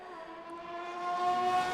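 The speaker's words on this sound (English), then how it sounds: "The engine tone of that Honda, sort of externally, it sort of shifts a bit earlier than some of the others." A Honda Formula 1 car engine in a racing video game at Bahrain holds a steady, high-pitched tonal whine that rises slightly and grows louder toward the end, alone without voices.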